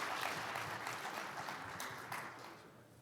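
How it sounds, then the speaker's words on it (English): Audience applause for a team of nuclear-industry innovators on stage at a forum, a steady wash of clapping that slowly fades over a few seconds. "invite you to applaud this team"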